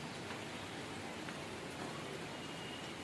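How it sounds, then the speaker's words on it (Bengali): Rain falling outside a window on a rainy day, a steady, soft, even hiss of drops that carries on throughout with no voices. "খুব সুন্দর বৃষ্টিটা"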